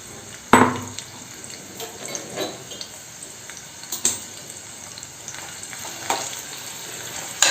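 Biryani ingredients fry in a pan, frying until golden brown and crisp, with a steady low sizzle broken by several sharp scrapes and clatters of stirring, close by and without talk.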